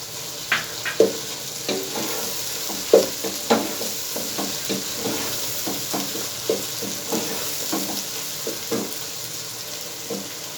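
Beef brain frying with sliced green chillies, a steady sizzle broken by repeated scraping stir strokes and occasional clinks, close and moderately loud with no voices.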